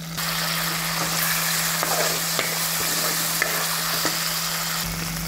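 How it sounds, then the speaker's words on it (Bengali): Onion and ginger paste fries in a pan while being stirred, producing a loud, unbroken sizzle with scattered scrapes and taps from the stirring utensil, close and steady. "জিঞ্জার পেস্ট 1 মিনিটের মতো নাড়িয়ে নিয়েছি"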